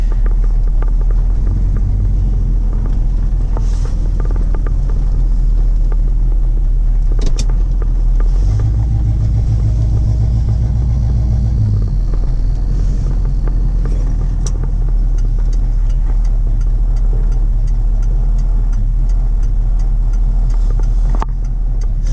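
A 1976 Camaro hot rod's engine rumbles steadily from inside the car while driving, a loud, continuous low drone that deepens briefly as the revs change, with no talking.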